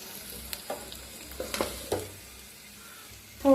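Soft sizzle of a masala egg frying in a pan, with a few light clicks and scrapes of stirring over a quiet frying hiss.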